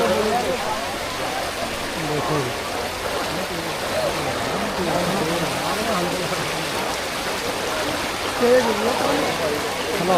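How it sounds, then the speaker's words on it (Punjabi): Floodwater pouring steadily downhill toward Batala near Dera Baba Nanak, a constant broad rushing wash, with voices talking over it throughout. "ਸਾਰਾ ਪਾਣੀ ਆਪਣਾ ਬਟਾਲੇ ਵੱਲ ਨੂੰ ਸਿੱਧਾ ਥੱਲੇ ਜਾਣ ਡਿਆ ਪਾਣੀ"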